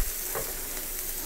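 Creamy curry chicken fries on a flat griddle, giving off a steady, close, fairly loud sizzle that holds evenly throughout with no one talking.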